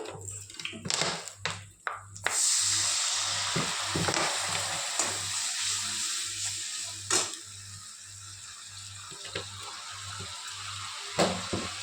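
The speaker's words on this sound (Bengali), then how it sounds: "মশলাটা কষা হয়ে গেলে একটু জল দিয়ে দেব। মশলাটায় তেল ছেড়ে গেছে" Spice paste fries in oil in a pan, a steady bright sizzle with scraping stirs and clinks, preceded by a few sharp knocks; a low rhythmic hum pulses underneath throughout.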